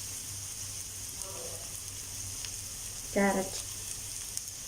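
Onion, green chili, cauliflower, beans, cabbage and carrot sizzle in a little hot oil for an egg-vegetable omelette, giving a steady close frying hiss with a brief stir, while a voice speaks a word.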